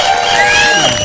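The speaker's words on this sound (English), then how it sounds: "Let's clap for Ron Johnson." A crowd at an outdoor parade cheers and claps loudly for Ron Johnson in a brief, dense burst of voices and applause.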